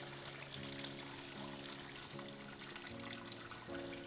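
Water poured from a pitcher onto a grain mash for homebrewed beer, a steady soft trickle running quietly and continuously under a low mechanical hum, with no voices.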